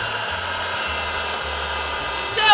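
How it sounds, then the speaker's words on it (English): Built-in vacuum cleaner of a 2014 Honda Odyssey minivan running as a loud, steady close whine with constant airflow, a bump at the end, and a low intermittent hum underneath. "you've got a vacuum cleaner in here that's going to help you clean up"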